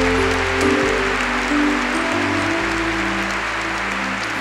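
Congregation applauding in a church, a steady wash of clapping under a sustained low musical tone, continuous and fairly loud throughout.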